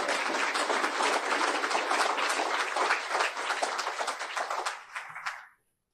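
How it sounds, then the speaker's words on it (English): A chamber of commerce awards banquet audience gives a big round of applause, dense clapping from a full room that holds steady for about five seconds, then thins and stops abruptly. "Let's have a big round of applause for the Wood County"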